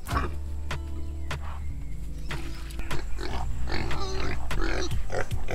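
Low grunts and snorts from a native boar sound close by, repeated irregularly over a steady low hum with scattered clicks and knocks.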